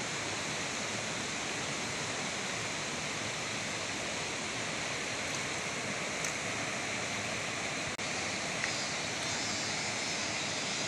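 Natural waterfall by a stream in the countryside, a steady broadband roar that stays constant and close throughout, with no voices over it.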